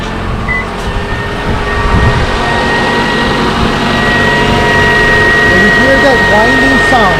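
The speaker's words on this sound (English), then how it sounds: "There's a whining sound that sounds like it's coming from the alternator." A running 2.5-liter engine in a 2010 Toyota RAV4 hums steadily with a thin, constant high whine from a failing alternator, heard up close while someone talks over it.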